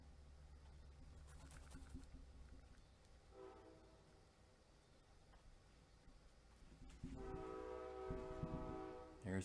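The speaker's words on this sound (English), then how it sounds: "There's the train." A distant train passing, its horn sounding twice with a steady drone and rumble of rail cars between, the second horn blast louder and longer near the end.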